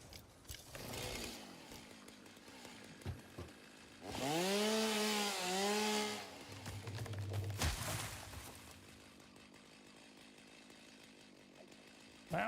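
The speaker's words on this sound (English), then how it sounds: "Get that chainsaw equipped." Chainsaw in the video game Satisfactory revs up sharply and runs in a loud, steady burst, then bogs down into a lower growl before cutting off, with softer game ambience around it.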